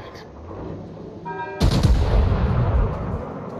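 A single loud naval gun blast booms from a warship in World of Warships, hitting suddenly after a quieter stretch and rumbling away over the next second or two.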